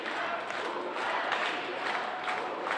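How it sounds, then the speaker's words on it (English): A crowd at an ice hockey game chants and roars continuously, a dense wash of many voices in a large arena, steady and moderately distant throughout. "A chant starting here from the crowd as Watkins is in."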